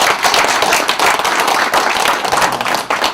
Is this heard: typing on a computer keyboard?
no